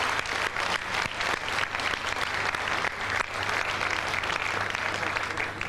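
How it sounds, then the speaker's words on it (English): An audience at a 2000 ethnic business awards gala dinner applauds the judges: loud, continuous clapping from a full room with dense, rapid individual claps, sustained throughout. "we should warmly applaud them for the great effort that they have put in"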